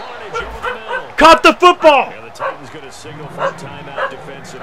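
A dog barks in a quick run of four or five loud yips and bow-wows in the middle, close by, while someone commentates on a Madden 17 American football game throughout.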